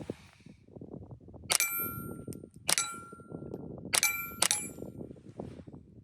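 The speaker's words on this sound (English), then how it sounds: "You probably hear that steel ringing." Four quiet muffled shots from a suppressed Sig Sauer P322 with subsonic ammo, each followed by a bright metallic ring of struck steel target, spaced a second or so apart over soft background noise.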